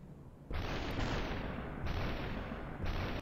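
A burst rifle in the video game Superhot fires loud, dense volleys that start abruptly and sustain a heavy roar, cutting out briefly and then resuming in clear repeated bursts.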